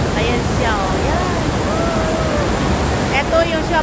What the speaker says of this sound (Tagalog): Ayun, tingnan nyo yung flow. Flow ng tubig.